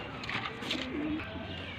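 Golden Teddy pigeons coo softly at close range, a few low throaty calls over a constant hiss of background noise.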